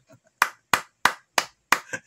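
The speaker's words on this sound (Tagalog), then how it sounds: "Palakpak naman dyan." Five sharp, close hand claps land in an even, steady rhythm about a third of a second apart, with a quieter tail after the last one and no talking.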